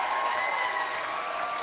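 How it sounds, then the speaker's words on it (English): Crowd applause for a live band at a Rebel Girrrls night show, a steady wash of clapping at moderate level through the whole short stretch, with no voices over it. "hear the crowd?"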